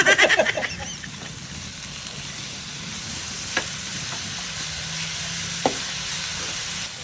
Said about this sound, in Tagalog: Ang lulutuin natin ay ginisang bagoong.